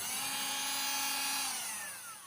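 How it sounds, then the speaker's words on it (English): Cordless Hyper Tough rotary tool grinding with a small sandpaper attachment gives off a faint, thin high whine that holds steady, then its pitch slides downward as it spins down at the end. "grinding on the thing with this little sandpaper attachment on the little Dremel tool here"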